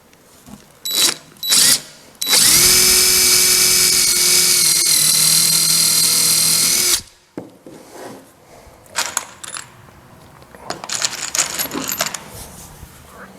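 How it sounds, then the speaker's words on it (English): A countersink drill bit pre-drills wood for a carpenter's tool box: one loud, steady whine of drilling lasts about five seconds, framed by brief knocks and handling clatter before and after. "I'm pre-drilling with this countersink here"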